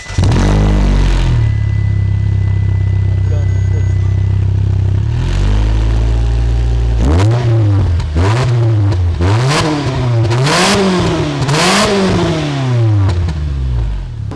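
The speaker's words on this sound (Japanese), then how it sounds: "これガナドールのマフラーが入ってるんで、はいはい、結構ねいい音するんですよ。" A Mitsubishi Delica D:5 minivan engine revs repeatedly through a deep, throaty Ganador aftermarket muffler, rising and falling in several loud bursts after a steady idle.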